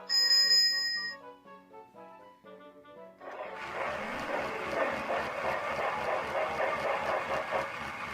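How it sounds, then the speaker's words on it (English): A bright toy bell on a motorized talking Percy toy train chimes a series of ringing, decaying notes, then a steady rhythmic chugging train noise takes over. "Time to ring my lucky bell."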